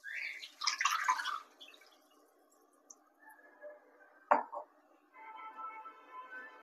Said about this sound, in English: Now we can add the starch water to this.